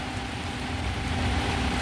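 Light rain falls outside as a steady, even hiss lasting nearly two seconds, close and fairly soft, with no voices.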